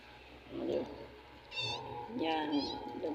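A kitten meowing indoors, several short high-pitched mews close by, mixed with a person speaking softly nearby.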